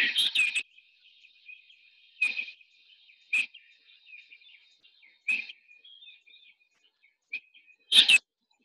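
Hartlaub's spurfowl calling at sunrise in Namibia, several loud, harsh bursts of calls spaced a second or two apart, with fainter chirps in between and no other sound.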